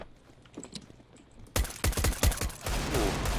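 Loud bursts of gunfire in the video game CS:GO erupt after a quiet opening, several sharp shots in quick succession followed by a dense, sustained rumble.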